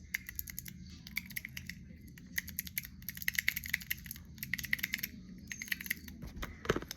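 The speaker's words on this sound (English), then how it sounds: "Got this clicky." A clicky fidget toy is clicked in quick irregular bursts of sharp, close clicks, with brief pauses between runs and no talking.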